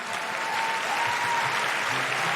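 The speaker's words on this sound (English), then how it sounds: "a big round of applause and thank you to everyone here at Hamer Hall" Audience applause fills Hamer Hall, a steady dense wash of many hands clapping at even volume through the whole stretch, with no one speaking over it.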